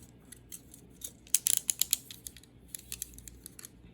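Scissors cutting out a paper shape at an art table, with a series of sharp close snips clustered in the middle and scattered quieter cuts before and after.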